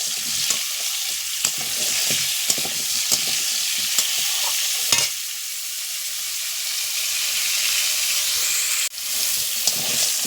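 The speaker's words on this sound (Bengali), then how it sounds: "নুন দিয়ে আর একটু নেড়ে নেবো" Sour hog plums are stirred with salt in a hot pan: a steady frying hiss broken by occasional sharp clicks and scrapes of the spoon, close and fairly loud.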